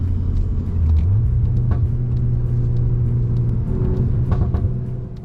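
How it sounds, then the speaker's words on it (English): A Volkswagen Golf R exhaust in Nürburgring mode rumbles loud and close while the hatchback runs through tight corners, its engine note holding and shifting up with faint crackles and pops over a constant low drone. "the exhaust in this mode, specifically in Nürburgring mode, is really chatty"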